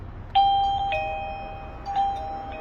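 A wireless doorbell camera's plug-in chime sounds twice, each time a clear electronic ding-dong tone that rings out and fades over a faint background hum.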